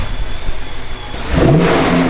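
A turbocharged BMW with a GTA Turbo tune builds from a rolling start, its engine note rising as it revs and accelerates, loud and close after a brief steadier stretch.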